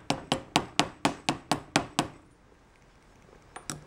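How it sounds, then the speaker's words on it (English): A hammer taps a steering gearbox input shaft seal into place with nine quick, evenly spaced metallic strikes, close and crisp, then a pause and two lighter taps at the end. "use this and just hammer it a little bit"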